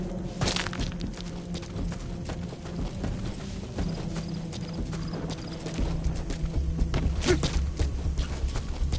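Horse hooves clip-clopping through the Metal Gear Solid V: The Phantom Pain game world, a steady rhythmic trot of hoofbeats over a busy background of game ambience that swells louder toward the end.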